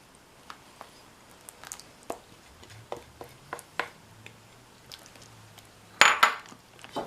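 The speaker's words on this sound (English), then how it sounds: "And mix it all up to form the dough." Buttermilk being mixed into Irish soda bread dough in a bowl: scattered close clinks and taps of a utensil against the bowl, irregular and moderately loud, ending in a louder burst of scraping, with no talking.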